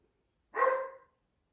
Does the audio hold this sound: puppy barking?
yes